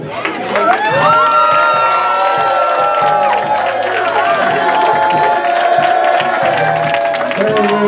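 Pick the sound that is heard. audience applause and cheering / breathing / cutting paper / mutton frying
audience applause and cheering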